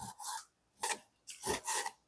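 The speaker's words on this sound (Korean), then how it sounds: "우둔살 이렇게 잘라. 나 최대한 얇게 썰어줄게." Knife slicing beef round as thinly as possible on a board, with four short rasping strokes in an uneven rhythm and quiet gaps between them.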